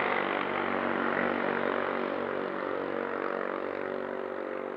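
A large WLtoys V950 RC helicopter hovers nearby, its rotor and motor producing a continuous, loud, steady buzzing drone with a constant pitch that holds for the whole stretch, with no talk over it.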